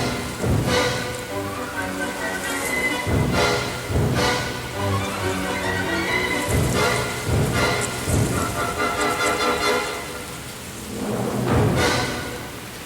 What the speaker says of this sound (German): Nachmittags lässt der Regen etwas nach